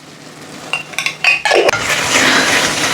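Spice powders being stirred into a mutton kola urundai gravy: a handful of quick metallic clinks and scrapes of a spoon against a pot, then a sustained hissing sizzle from the pan, close and without talk.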